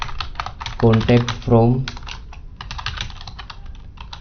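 Rapid clicking of computer keyboard keys in short irregular bursts, close up, with brief spoken words partway through.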